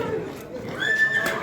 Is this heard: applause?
no